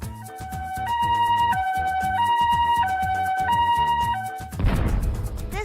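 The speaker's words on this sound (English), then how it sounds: "This is the sound of an ambulance." An ambulance siren sounding a two-tone hi-lo wail that alternates steadily about every two-thirds of a second over background music, then ends in a noisy burst.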